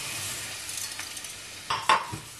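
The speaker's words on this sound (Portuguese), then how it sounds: "o arroz refogar um pouquinho no azeite e no alho para tomar sabor" Rice sautés in olive oil with garlic in a pot, a soft steady sizzle broken by a few scraping stirs and light clinks of a utensil near the end.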